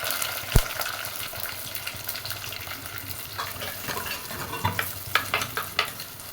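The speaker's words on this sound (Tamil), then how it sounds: "கருவேப்பிலை பொரிஞ்சதும் வெங்காயம் போடணும்." Onion sizzles in hot oil with cinnamon, cardamom, cloves and curry leaves, a continuous bubbling hiss broken by a few close clinks and stirring scrapes toward the end.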